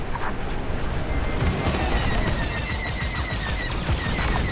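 Station cannons in the Star Wars: Squadrons space combat game pound out a dense, rapid barrage of blasts, loud and continuous over a rushing engine roar.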